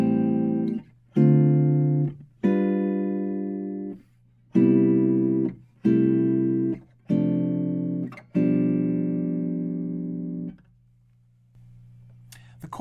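Fingerstyle jazz guitar plays two measures of chord changes, each chord plucked cleanly and left to ring, in a steady series of about eight chords with short gaps between them, quiet and alone.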